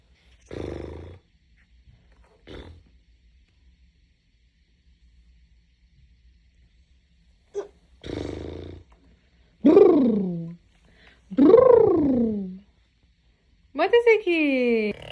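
A year-old child imitates a motorcycle engine with a few close, voiced revving bursts that swoop up and down in pitch, arriving in short spurts after a couple of brief sounds and quiet gaps.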